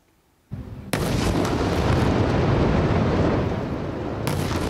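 An Israeli airstrike destroys a building in Gaza that houses foreign news offices, producing a sudden heavy blast and then a sustained, loud roaring rumble.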